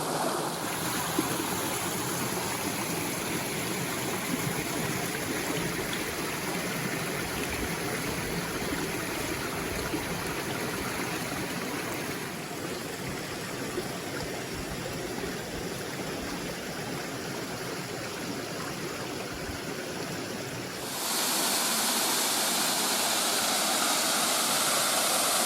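A deep, wide jungle creek flows steadily, a continuous rushing and gurgling of water that holds for the whole stretch and turns brighter and hissier near the end, with no voices.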